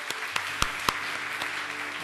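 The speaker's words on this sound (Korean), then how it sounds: "우리 한번 하나님께 감사의 박수를 드리겠습니다" Applause from a church congregation during a Korean worship service, a dense steady patter of many hands for about two seconds with a few sharper claps standing out, then stopping abruptly.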